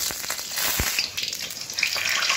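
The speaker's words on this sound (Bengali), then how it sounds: "এখন আমি দিয়ে দেব তেল, একটা শুকনো লঙ্কা, ফোড়নের জন্য দিয়ে দেবো কালো জিরে" Dried red chili and black cumin seeds crackling and sizzling in hot oil, a bright steady spitting hiss with a few sharp pops, close and alone without talk.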